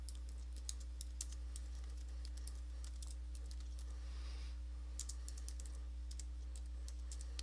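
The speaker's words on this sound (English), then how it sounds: "I am also typing in my name, and then click OK." Typing on a computer keyboard while a drawing title and a name are entered into a title block. Quiet, irregular key clicks come in quick bursts with short pauses between them over a low steady hum, and no one speaks.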